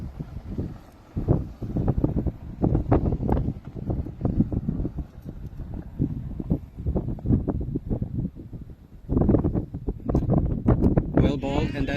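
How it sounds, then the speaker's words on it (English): Gusty wind buffets the microphone at an outdoor cricket match, coming in loud rumbling bursts throughout with a brief lull before picking up again. "it is pretty windy out there"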